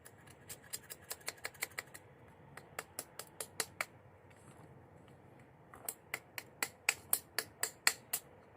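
Spyderco Shaman folding knife chopping a small branch outdoors, a close series of sharp, crisp whacks in quick rhythm, about a dozen strikes, a pause, then another run of evenly spaced blows growing slightly louder.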